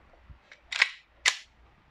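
A WE Glock 17 Force T7 airsoft pistol fires two sharp, loud cracks about half a second apart. A faint click comes before them, and no one speaks.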